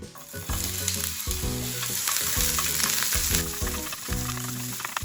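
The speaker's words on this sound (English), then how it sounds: "Once the pan is heated, I'm going to put in the onions." Steady, loud sizzling of onions frying in sesame oil in a hot pan for a ginger pork stir-fry, with a constant crackling hiss throughout and no voices.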